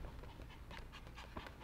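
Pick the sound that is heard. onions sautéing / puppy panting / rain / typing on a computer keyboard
puppy panting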